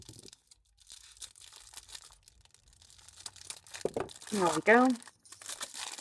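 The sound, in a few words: tearing open a taped package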